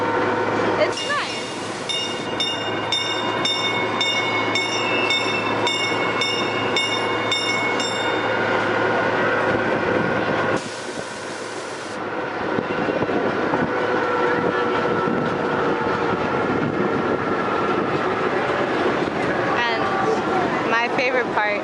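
A small Centreville train rolls along the tracks with a steady, close rumble and clatter throughout, while someone talks over it and a whistle or bell tone sounds early on.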